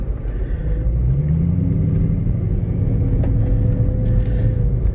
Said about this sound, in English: This road is super bumpy.